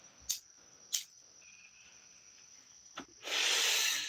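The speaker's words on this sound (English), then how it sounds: "there's a lot of damn frogs croaking and cicadas screaming and every damn thing else" Insects buzz in a steady high drone through the night, with a few sharp clicks and a louder burst of hissing chirps near the end; no frog croaks stand out.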